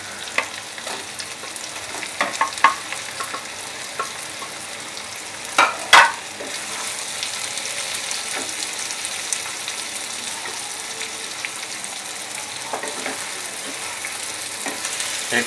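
Paneer and green chillies fry in a pan while being stirred, with a continuous sizzle, scattered spatula scrapes and a sharp clatter partway through, close and at moderate loudness.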